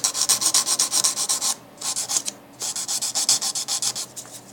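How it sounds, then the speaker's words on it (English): An acrylic nail is filed into shape with a hand file, giving a steady run of quick, close rasping strokes with a short pause partway through and no talking. "So now all I'm doing is just filing this nail in shape."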